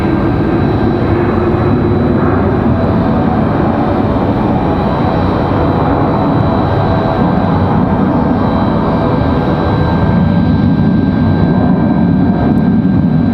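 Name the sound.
Endeavor CRJ jet arriving from LaGuardia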